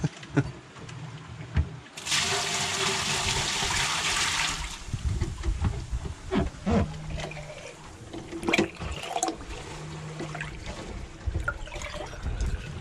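Water pours and drains through a widened drain plug on a sailboat under way, a steady gushing burst up front giving way to trickling and sloshing with scattered knocks and clatter nearby.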